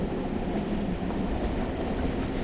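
A train in the video game Tokyo Dark rumbles steadily in the background, a continuous low rolling noise with a faint high whine that joins partway through and holds to the end; no one speaks.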